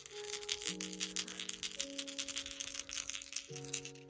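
Dungeons & Dragons dice clatter and tumble in a quick burst of rapid clicks and rattles, with steady sustained tones humming underneath.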